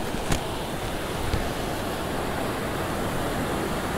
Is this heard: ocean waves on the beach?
yes